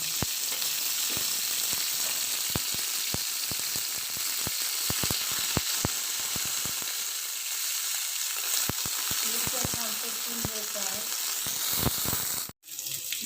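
Green chillies sizzle and fry in a little oil in a pan for a fasting-day sabudana khichdi, a steady close crackle with frequent sharp pops and spits throughout, and faint stirring near the end.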